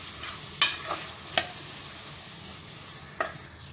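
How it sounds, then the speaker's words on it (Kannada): Mint and coriander paste frying in a pan for bachelor-style pulao, a soft steady sizzle with a few sharp stirring scrapes standing out, no talking. "ಈಗ ನಾವು ಪೇಸ್ಟ್ ಮಾಡ್ಕೊಂಡಿದ್ದೆಲ್ಲ ಪುದೀನ ಕೊತ್ತಂಬರಿ ಸೊಪ್ಪು ಎಲ್ಲ ಇವಾಗ ಇದನ್ನು ಹಾಕ್ತಾಯಿದ್ದೀನಿ. ಇದು ಸಹ ಅಷ್ಟೇ 1 2 ರಿಂದ 3 ನಿಮಿಷ ಈ ಥರ ಫ್ರೈ ಮಾಡ್ಕೋಬೇಕು."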